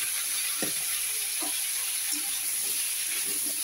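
Food frying in hot oil in a kadai gives a steady, loud sizzle throughout, with a few faint stirring clicks and no talk.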